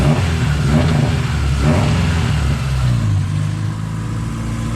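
Race car engine running roughly, revving unevenly in uneven surges and stumbles, close and loud, with the pitch sagging and wavering toward the end.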